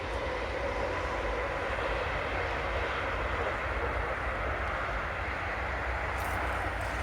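A train passes near Stirling, Bannockburn, as a steady, loud, broadband rumble that holds evenly throughout, heard outdoors from a field with no voices.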